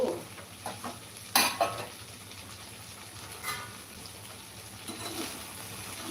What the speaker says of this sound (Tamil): நல்ல வெண்டைக்காயை மட்டும் போட்டு வச்சுக்கோம் நல்லா வதக்கிப்போம்